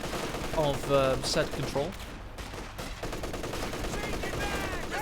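Rapid machine-gun bursts from an MG-30 and a .50 cal in a competitive multiplayer war strategy game ring out in a dense, continuous crackle, mixed with a commentator's voice.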